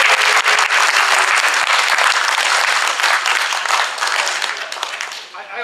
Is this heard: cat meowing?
no